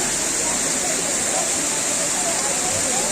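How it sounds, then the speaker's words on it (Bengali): Waterfall in Darjeeling, a dense steady hiss of falling water filling the whole clip, close and continuous with no pauses. "আর এই যে দেখুন জল পড়ছে"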